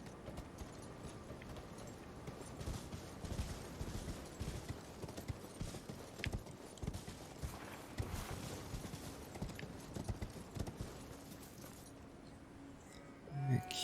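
A horse gallops at a steady pace in Elden Ring, with a continuous rapid clip-clop of hooves running loud and close for the whole stretch, ending in a brief thump.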